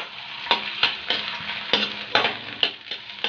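Onions sautéing in a pan for pork igado: a close, moderately loud sizzle broken by regular stirring scrapes roughly every half second, with no talking.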